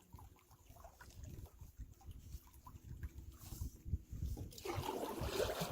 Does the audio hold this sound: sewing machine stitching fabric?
no